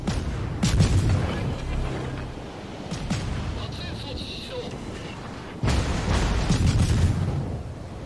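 Naval guns firing in the World of Warships game, heavy booming blasts rolling out in bursts near 1 and 3 seconds and again from about 5.7 seconds, over steady battle rumble.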